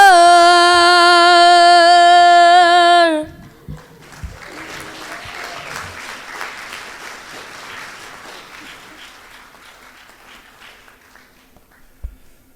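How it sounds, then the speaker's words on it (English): Applause breaks out from an audience after a live performance of classics at a session, sustained and fairly loud at first, then thinning to scattered clapping that fades toward the end, following a held sung note. "Give him another round of applause, please."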